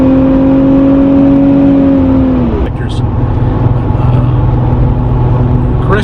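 A Porsche engine held at high revs from a standing start with the throttle floored, a loud steady drone for about two seconds before dropping away into a rougher, lower running rumble with some background talk.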